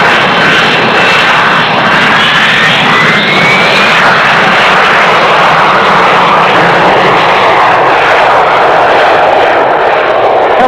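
Loud, steady roar of a Navy jet airplane engine capable of about 1,000 miles an hour, filling the whole stretch with a broad continuous rush and a faint rising whine early on, with no talking.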